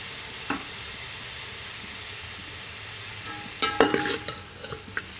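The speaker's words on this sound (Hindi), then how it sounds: "सब्जियां डाल के हमने अच्छे से फ्राई कर ली हैं" Cabbage and capsicum stir-fried in a pan give off a steady low sizzle, with a cluster of sharp scraping clatters from the spatula near the end. This is the vegetable step of a chicken and egg fried rice.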